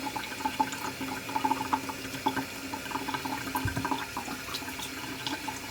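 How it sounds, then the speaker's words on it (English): Running tap water splashing steadily into a sink while someone rinses their face, a continuous close gush with small irregular splashes and no speech. "I'm gonna go in and rinse with a little bit of water."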